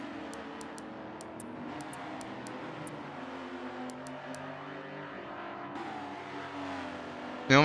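Onboard engine of the CXRL safety car in Forza Motorsport 7, racing at Dubai, a sustained droning hum that rises gradually, with repeated short high beeps early on and a sudden loud burst at the end.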